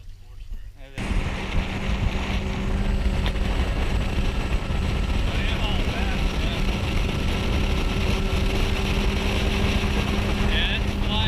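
A 2016 Mercury Pro XS four-stroke outboard motor drives a fishing boat on open water near Crystal River. It makes a loud, steady roar with wind buffeting the microphone after a brief quiet start.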